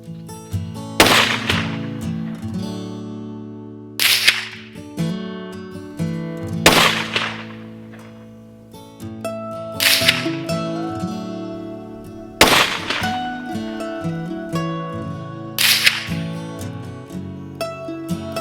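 Ruger American rifle in .22 Magnum firing Federal 50-grain jacketed hollow points during accuracy testing, six sharp cracks spaced a few seconds apart, each ringing out over a steady background hum.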